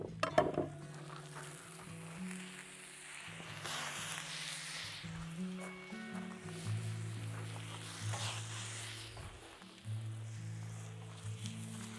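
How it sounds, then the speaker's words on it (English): Vegetables sear on a hot Vulcanus grill with a steady sizzle, while stirring and scraping noises come and go and low tonal hums sit underneath, moderately close, with no talking. "You can hear the sizzle"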